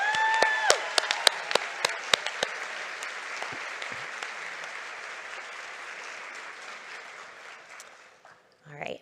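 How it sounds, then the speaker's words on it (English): A symposium awards audience gives a warm round of applause for an absent award winner and her staff, with a few loud close claps at first, then a steady wash of clapping that thins out and stops near the end. "I'd like to give her and her staff a huge round of applause."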